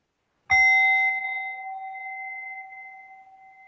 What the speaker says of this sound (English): With the sound of a gong, let's practice.